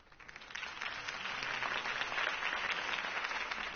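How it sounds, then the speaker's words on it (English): Sustained crowd applause and cheering in the video game Telltale's Batman series, episode 1, a dense even wash of clapping that swells slightly and holds steady, with no talking over it. "could have heard that applause"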